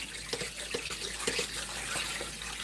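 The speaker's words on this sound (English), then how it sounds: "And we're just gonna let the cold water do its thing for a bit." Cold tap water runs steadily into a pot of eggs in a sink, a continuous close splashing hiss with faint irregular drips and no talking.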